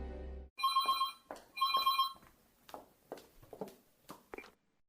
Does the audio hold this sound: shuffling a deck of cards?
no